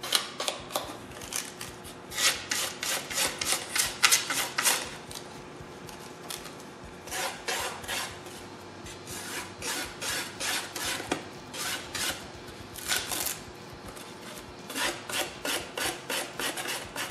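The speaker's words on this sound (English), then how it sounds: "We're just sanding that right smooth." Steady rhythmic rasping of a sanding stick on fiberglass and resin, back-and-forth strokes repeated throughout at close range, with no talking.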